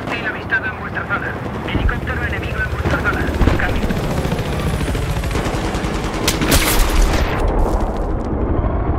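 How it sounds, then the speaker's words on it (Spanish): An enemy helicopter in Battlefield 3 on the Sharqi Peninsula map, its rotor churning through dense gunfire and explosions during an online battle, with radio voices talking over the din. "Helicóptero hostil avistado en vuestra zona."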